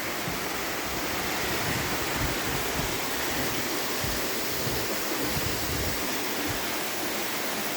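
Pure spring water flows steadily as a continuous broadband rush of running water, close and unbroken for the whole stretch, with no voices.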